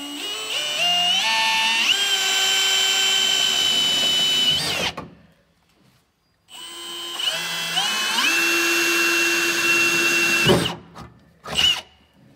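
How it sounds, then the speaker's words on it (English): A power drill with a lubricated bit whines loudly, its pitch climbing as it bites through metal grease bolts, in two long runs separated by a pause, then a short burst. "we'll drill right through those grease bolts"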